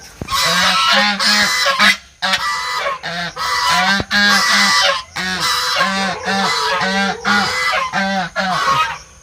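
Loud, continuous honking of several Muscovy ducks and geese close by on a farm, overlapping calls in rapid bursts with brief pauses.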